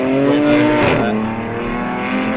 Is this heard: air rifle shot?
no